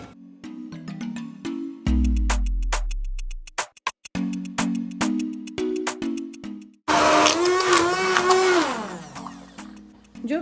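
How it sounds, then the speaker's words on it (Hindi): A kitchen blender grinds cooked daal with spices for a Pakistani daal gosht, whirring in short bursts between pauses before a longer, louder run whose pitch rises and falls as the mixture churns. "और अब इसको किसी भी मिक्सर, ब्लेंडर या कहीं पर भी डालकर आप इसे पीस लें।"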